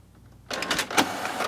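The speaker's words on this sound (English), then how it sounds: "Press and hold until you hear a click." A Canon inkjet printer fitted with refillable PG-245 and CL-246 cartridges suddenly starts up after a quiet moment, giving a loud burst of mechanical whirring and clicking that continues to the end.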